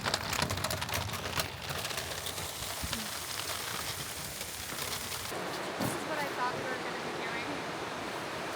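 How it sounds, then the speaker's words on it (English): Hail pelting down on the Oregon coast, a steady dense patter of ice striking surfaces with surf rumbling underneath; a voice speaks briefly near the start. "Well, we escaped the snow, but now it's hailing."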